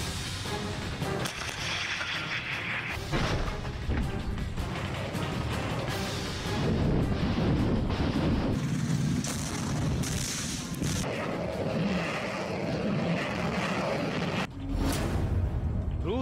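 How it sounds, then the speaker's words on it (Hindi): Heavy Russian bombardment in Ukraine rumbles with repeated deep booms and crashing blasts over a dense, continuous roar, loud and chaotic, with voices faintly audible in places. "रूस की यूक्रेन पर भीषण बमबारी।"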